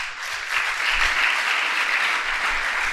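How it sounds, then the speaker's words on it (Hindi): Sustained applause from a seated audience at a spiritual teaching camp's question-and-answer session in a hall, steady and full for the whole stretch with no talking over it. "एक बार उनके लिए तालियां बजाओ।"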